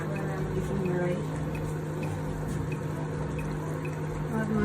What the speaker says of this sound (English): we're gonna pour some water